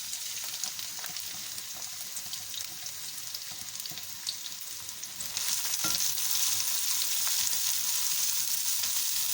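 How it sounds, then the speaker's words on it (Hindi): Chopped onions sizzle steadily in hot oil in a pan, a continuous close crackling hiss that grows louder and denser partway through, with no talking. "प्याज जो मैंने काट के रखा है वो ऐड कर दें।"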